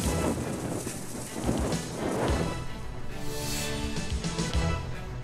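A wind and rain storm sweeps over South Portland, Maine, a constant loud roar of gusting wind and pouring rain that never lets up.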